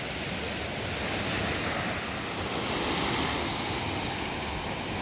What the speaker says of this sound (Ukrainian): А море все таке ж саме, як і було вдень, хвилюється.